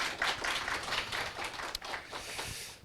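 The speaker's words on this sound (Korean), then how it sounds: "박수 한번 쳐드릴까요?" Scattered applause from a church congregation during a Sunday sermon, a steady patter of clapping hands at moderate volume with no voices.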